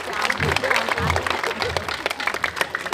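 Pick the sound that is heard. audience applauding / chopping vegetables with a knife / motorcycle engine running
audience applauding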